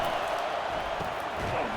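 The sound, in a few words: stadium crowd roaring at college football game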